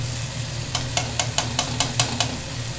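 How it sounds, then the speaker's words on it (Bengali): Rice poured into a hot pot of spices (bay leaf, cloves, cardamom, cinnamon) for vegetarian pulao, giving about seven sharp, evenly spaced scraping clicks over a steady low hum, close and moderately loud. "তার সাথে সাথে দিয়ে দিচ্ছি চাল।"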